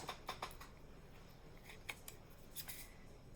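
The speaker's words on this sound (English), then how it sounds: "Get my big scissors." Large scissors snip through paper for homemade envelopes in several quick, crisp cuts, close and quiet, with short pauses between.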